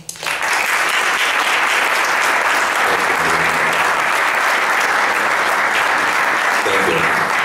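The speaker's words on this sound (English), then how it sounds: "let's welcome now Robert Rommel Lefkowitz with a warm round of applause." Audience at a programming conference talk breaks into loud, sustained applause after a brief voice, the clapping dense and steady throughout.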